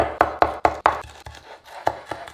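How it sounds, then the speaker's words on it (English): A meat cleaver chops through grass stems on a cutting board in a kitchen, striking in a quick run of four sharp, close knocks, then a pause and several more scattered, softer chops, with no talk. "Continuing with the meat cleaver, he makes short work of the grass."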